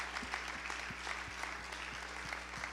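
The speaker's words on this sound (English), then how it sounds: "I'll clap for myself on that one." Steady applause from a church congregation during a sermon, a dense even patter of clapping at moderate distance, with a low hum running underneath.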